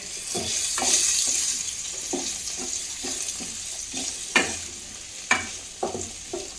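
Corn chevdo, made with American corn, is mixed in a pan: a soft, continuous fry hiss with repeated scraping and tapping strokes of a spoon, a few sharper clacks near the end.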